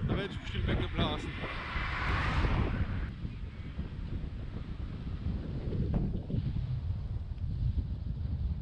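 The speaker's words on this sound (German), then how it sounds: "im Moment haben wir einen schönen Wind" Wind buffets the microphone on a bike path along the Rhine, low rumbling gusts that rise and fall throughout, strongest early on, with a voice heard briefly.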